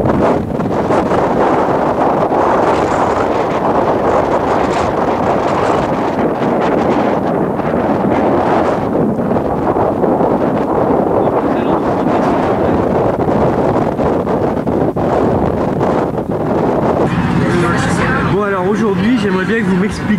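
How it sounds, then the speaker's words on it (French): Strong wind buffets the microphone in a continuous loud roar of gusts outdoors in Argentina, with a few voices talking underneath. "Alors, Jeannot, il y a du vent aujourd'hui."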